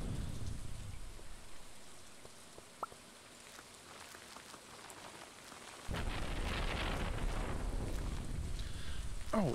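Rain in the farming video game Stardew Valley: soft, faint patter at first, then at about the six-second mark a steady, fuller hiss of rain with the occasional soft click.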